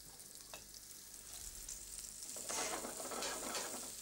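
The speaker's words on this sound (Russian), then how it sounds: "Еще 3-4 минуты пусть жарится." Coarsely chopped smoky ingredient, meant to flavour pasta, sizzles and fries in a pan, with a steady crackle that swells louder midway, without any talk over it.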